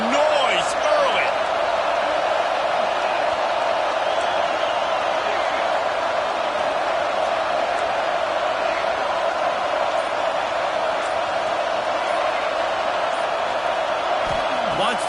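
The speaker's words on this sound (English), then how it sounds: "This crowd bringing the energy and noise early." A football stadium crowd at an LSU game roars in a steady, dense wash of cheering and noise that holds at the same level throughout, with no speech on top.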